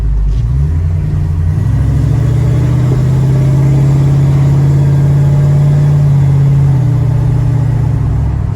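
A 1968 Ford Mustang Eleanor kit car, Copperhead finish, rumbles steadily through a test drive, its deep engine note holding close and loud with a brief rise in pitch near the middle, no voices over it.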